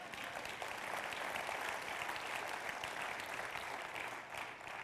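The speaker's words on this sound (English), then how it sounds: "Once again, it says applause on the monitor." A room of attendees at a convention and visitors bureau annual meeting applauds, steady dense clapping at moderate distance that holds evenly throughout, with no voices over it.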